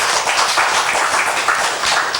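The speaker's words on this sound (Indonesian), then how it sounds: "Boleh kita berikan tepuk tangan?" Steady applause from an audience, dense overlapping claps filling the whole stretch at an even, fairly loud level.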